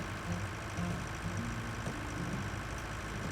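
A New Holland T6 160 tractor engine in the video game Pure Farming 2018, pulling a cultivator, holds a low steady drone that hums evenly throughout, with no voices.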